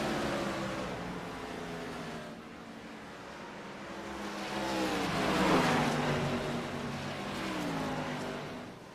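Gen 4 NASCAR race cars pass on the track in a continuous engine roar that rises and falls in pitch as a car sweeps by, then settles back into a steady drone.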